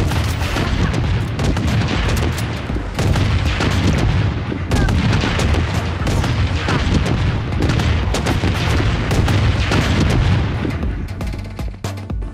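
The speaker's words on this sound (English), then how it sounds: "Missile bombardment on its way." Missile bombardment in the Blood Strike mobile shooter, with loud, continuous rumbling blasts and dense booming impacts filling the whole stretch, up close and without talk.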